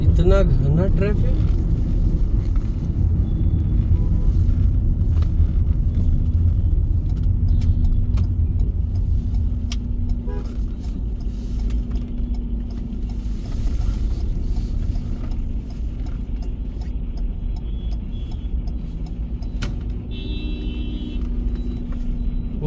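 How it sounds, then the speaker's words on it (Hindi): Dense road traffic in India surrounds a Skoda car, with low engine rumble and idling vehicles droning steadily and close throughout, a faint horn-like tone near the end, and people talking over the noise. "इतना घना ट्रैफिक"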